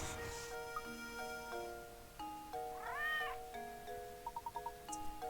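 A single sharp, aggressive meow from Claudia the cat in the Professor Layton and the Curious Village video game sounds mid-clip, set against looping game music and short chiming notes.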